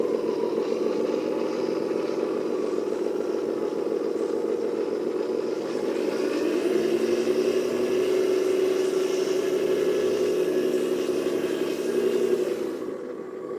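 Steady electric whir of an RC 8x8 floating-cabin dumper truck running in its low speed gear, with a faint simulated engine sound, continuous and close, shifting slightly in pitch partway through before tailing off at the end.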